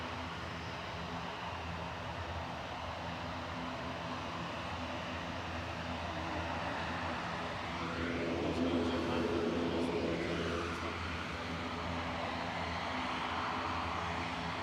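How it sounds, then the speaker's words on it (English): EasyJet Airbus A320 Classic airliner arriving at Manchester Airport, a broad steady jet engine roar with a swell as it passes, heard from a distance with steady background noise throughout. "EasyJet 2104 from Nice, operated by GEZWS, an A320 Classic."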